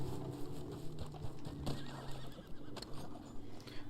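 A horse in the Red Dead Online video game gives a neigh over the clip-clop of hooves, the whinny rising above a rhythm of hoofbeats at close range.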